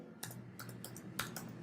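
Email address being typed on a computer keyboard: a short quiet burst of soft key clicks in quick irregular succession, close up against a low hum.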